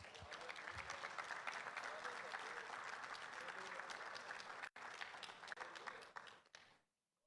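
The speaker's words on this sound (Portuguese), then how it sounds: "Você pode aplaudir Jesus por isso?" A church congregation applauds in a temple, steady dense clapping filling the room for several seconds, briefly breaking once and fading out at the end.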